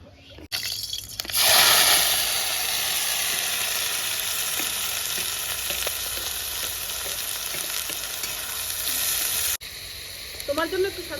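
Chicken pasta frying in oil in a kadai, sizzling loudly and steadily while being stirred slowly, with brief scraping stir sounds; the sizzle cuts off near the end.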